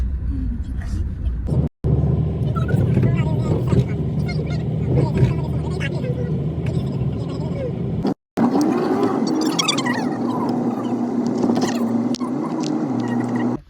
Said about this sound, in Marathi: तो गाइस अब गाड़ी फास्ट हो चुकी है